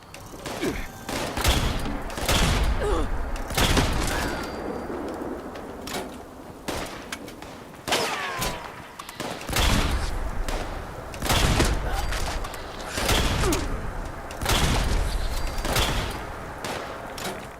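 Gunfire from a Berserker Gauss Rifle in Fallout 76, loud heavy shots landing as a series of separate blasts, each followed by a short rumbling tail, spread roughly every second or two across the stretch.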